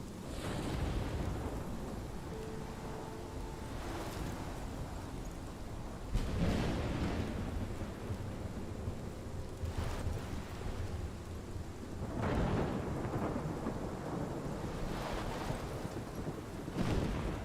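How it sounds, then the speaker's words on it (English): Thunderstorm in the video game Life Is Strange Remastered: steady heavy rain with repeated deep rumbling thunder rolls that swell every few seconds, loud and enveloping, with no voices. "This is my storm."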